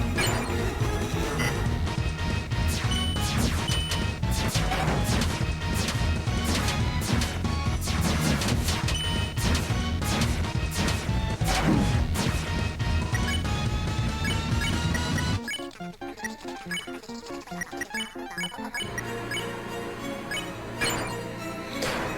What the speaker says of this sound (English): Over here, I demonstrate the power of the big shot